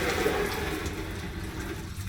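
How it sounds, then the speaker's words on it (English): Coolant pouring out of a 1HZ diesel engine block during a cooling flush, a steady close gush of splashing liquid with no talk over it. "That's the rest of the cooling on the block."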